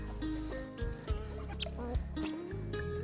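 Farm chickens, including fighting-cock and Dong Tao breeds, clucking and calling close by in a busy, overlapping chorus, with a few sharper squawks and rustling movement.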